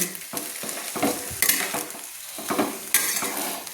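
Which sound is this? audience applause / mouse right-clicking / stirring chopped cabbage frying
stirring chopped cabbage frying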